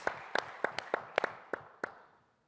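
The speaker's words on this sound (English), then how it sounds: "A round of applause for everyone at Arabian Business and ITP" Sparse clapping at a business forum keynote, about a dozen distinct claps at an uneven rhythm that soon thin out and die away into silence.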